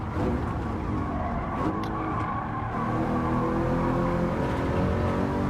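A Lexus LC500 racing at Watkins Glen in a racing game holds full throttle out of a corner, its engine droning loud and continuous with rising harmonic tones, no voices over it.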